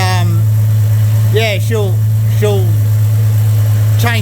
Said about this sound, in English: doesn't sound too bad for a 2-inch exhaust system with an actual proper muffler